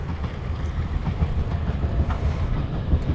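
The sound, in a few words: train passing by near Hasugaike station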